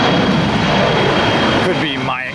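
Embraer jet airliner operated by Envoy for American Airlines roars steadily at Tampa International Airport in the rain, a loud continuous engine rumble and whine close by that shifts pitch toward the end.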